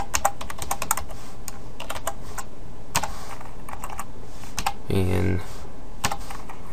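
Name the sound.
typing code on a computer keyboard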